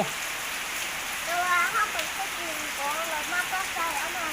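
Morning rain falls steadily on a village in Isan, a soft continuous hiss with scattered drips, while birds chirp faintly in the background.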